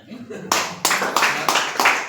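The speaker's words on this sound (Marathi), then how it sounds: "अरे वा, टाळ्या" A group claps in a few bursts of hand claps, loud and close, roughly every third of a second, after a short stretch of low voices.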